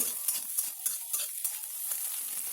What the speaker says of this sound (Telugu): ఇలా దాన్ని కొద్దిగా విడివిడి చేస్తూ కలుపుతూ ఉండాలి.